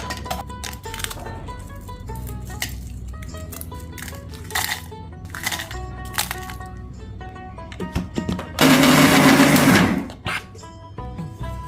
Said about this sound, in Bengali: এখন আমি চলে যাচ্ছি ব্লেন্ডারে প্রথমে বাদাম আর শুকনো মরিচ এই দুটো একসাথে ব্লেন্ড করে একটা পাউডার তৈরি করে নেব